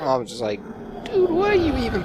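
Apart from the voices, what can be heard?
No distinct noise like a dog, phone or traffic.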